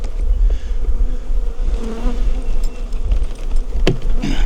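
Honeybees from a strong, opened hive in a bee yard swarm around close by, a dense, steady buzzing drone with individual bees whizzing past the microphone.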